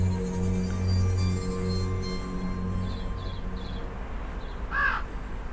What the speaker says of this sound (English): See, it's a crow.